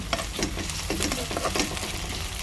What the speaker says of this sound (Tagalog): From the same pan, magigisa lang po tayo ng bawang.